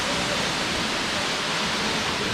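Koodlu Theertha waterfall roaring as a dense, continuous broadband rush of falling water, loud and steady throughout.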